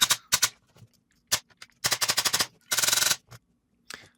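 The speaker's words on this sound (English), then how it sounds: "this guy is shooting a ton of BBs" A G&G speedsoft airsoft gun fires BBs in quick bursts, from single snaps to rapid full-auto strings of clattering shots, close and crisp with silent gaps between.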